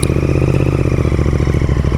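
A motorcycle engine runs steadily on a hill road toward Kalimpong, a bike suspected of having a fault, its loud close putter holding an even, rapid rhythm throughout with no talk.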